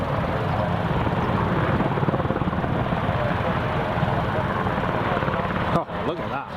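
Several aircraft flying in formation over Carlisle Airport, a broad steady engine roar filling the sky for several seconds before cutting off abruptly, with rustling handling noise at the end.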